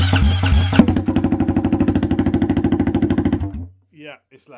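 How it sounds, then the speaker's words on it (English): A KTM 500 EXC supermoto single-cylinder engine runs with no exhaust back box fitted, blipping once then settling into a loud, rapid, pulsing idle-rev of distinct throbbing beats before cutting off, followed by brief talk. "I wonder what it would sound like with no exhaust on it. No back box on."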